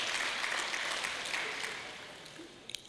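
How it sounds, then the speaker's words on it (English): Audience applause at an awards ceremony for innovative teachers, a dense wash of clapping that stays steady, then fades gradually toward the end, with a couple of brief sharp sounds near the close. "Please, a round of applause for her."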